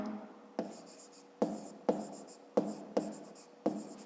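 A pen writing on paper during a fifth-grade math exercise, close scratchy strokes in short repeated bursts, about seven distinct starts, with a faint steady hum underneath.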